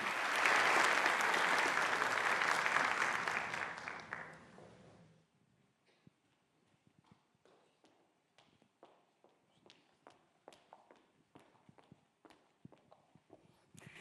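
Audience applause welcoming a Turkish minister to the podium, a loud dense burst for about five seconds that fades out, followed by scattered footsteps and light taps in a quiet hall.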